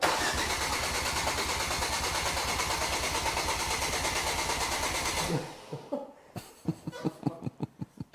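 A Ford Focus RS project car's starter cranks in a fast, even rhythm for about five seconds without the engine catching, then stops, leaving a few irregular clicks and knocks.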